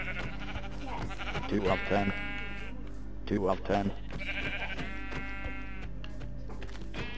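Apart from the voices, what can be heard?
sheep bleating in Minecraft video game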